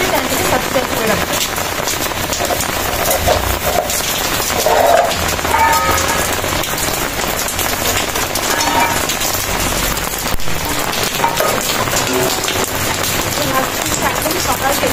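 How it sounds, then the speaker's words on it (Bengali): Steady rain falling on a surface, a loud, continuous patter and splash throughout, with occasional heavier drips and clatters mixed in. "একদম সকাল থেকে বৃষ্টি হচ্ছে"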